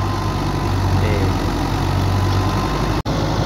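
A Belarus 510 tractor drives a wheat thresher at harvest, its engine holding a steady, loud, close drone with deep low rumble. The sound drops out for a split second near the end.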